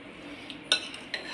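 A utensil clinks and scrapes against a bowl in a few quick strokes as a spicy drumstick marinade with ketchup is mixed. The sounds are close and fairly quiet, with no talking.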